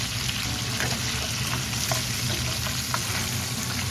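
Jerk oxtails frying in a pan, a dense, steady close sizzle with faint crackles and occasional soft scrapes, no talking.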